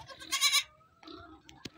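An Anglo Nubian goat bleats loudly in a short, wavering cry, followed by a quieter second bleat and a couple of brief clicks nearby.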